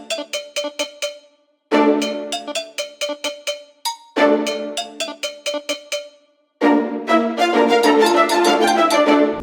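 Synth pluck patch from Triton playing a chord progression in FL Studio, in a 2000s-style melody beat: short bright plucked chords in repeating rhythmic phrases with brief gaps, the last phrase denser and sustained.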